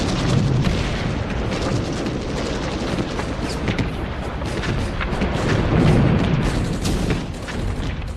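Battlefield barrage of artillery and machine gun fire from a First World War documentary, a dense, continuous rumble of booms and rapid shots rolling on loudly without pause.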